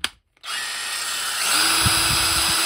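A BAUER 20V cordless 3/8-inch right angle drill gives a short click, then spins up into a steady close whine that rises in pitch partway through and runs alone without talk.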